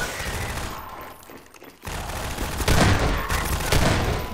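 Automatic gunfire from Half-Life 2 mowing down Combine soldiers: a dense rattling burst, a brief lull with the sound thinning out, then a louder, heavier volley of rapid shots.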